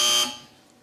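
A single loud electronic game show buzzer blares for about a quarter second, then cuts off and fades into quiet.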